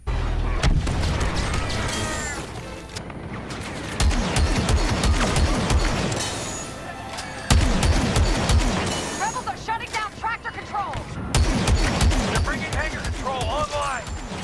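E5S blaster fire from a Star Wars Battlefront 2 battle comes as rapid, loud bursts of shots and booming impacts over a constant din of combat, with a voice speaking over parts of it.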